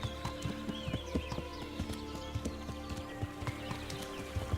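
Horse hooves clip-clop in a steady walking rhythm in the medieval video game Kingdom Come: Deliverance, with moderate-level hoofbeats over a constant outdoor ambience and faint bird-like chirps.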